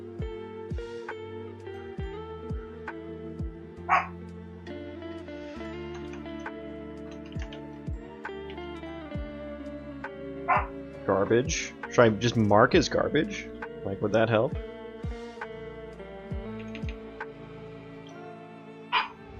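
Dogs bark indoors in scattered short yelps over a soft tonal backdrop, then break into a longer cluster of agitated barking and whining in the middle, while someone talks quietly on and off.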